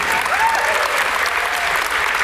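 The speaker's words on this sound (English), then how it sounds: "Round of applause for all the people the first time here." Convention audience applauding at a Star Trek alumni panel at Dragon Con, a dense, steady wash of clapping from a large crowd, loud and sustained throughout.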